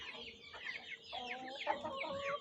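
Aseel hens cluck in short, scattered bursts from close by, with several birds overlapping against a low murmur of farmyard background.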